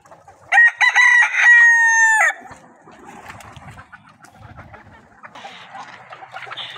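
Golden Misri hens on a poultry farm, with one bird letting out a loud, close, drawn-out crow-like call, followed by softer scattered clucks and rustling in the background.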